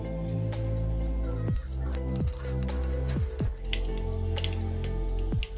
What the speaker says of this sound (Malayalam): കടുക് ഇട്ട് കൊടുക്കുകയാണ്.